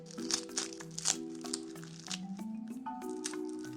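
Crispy, flaky cheese börek cut with a knife, giving a run of close, crackling crunches and crinkles over a few seconds, with a steady tonal background underneath.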